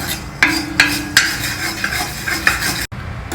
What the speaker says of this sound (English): We will dry roast this too.